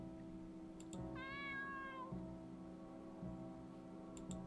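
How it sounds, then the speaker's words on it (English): A single drawn-out cat meow from a video game rises and falls over a steady low background hum. "It's a kitty! You notice a small cat-like creature."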